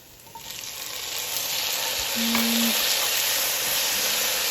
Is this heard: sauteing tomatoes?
yes